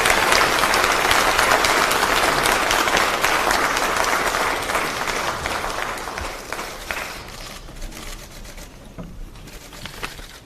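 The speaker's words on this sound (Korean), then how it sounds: "여러분 모두 박수로 맞이해주시기 바랍니다" A large crowd claps loudly and continuously at a Korean political party meeting welcoming a presidential candidate, the applause gradually thinning and fading toward the end.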